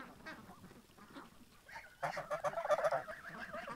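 Geese honking in a yard: soft background sounds at first, then a burst of loud, repeated nasal honks from the flock nearby in the second half.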